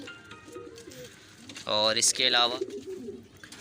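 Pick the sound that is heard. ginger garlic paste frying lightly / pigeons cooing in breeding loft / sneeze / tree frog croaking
pigeons cooing in breeding loft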